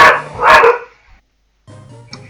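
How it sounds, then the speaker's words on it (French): Dogs barking close and loud, two sharp barks in quick succession, then a pause and a quieter yip at the end. "Excusez-moi, c'est les chiens"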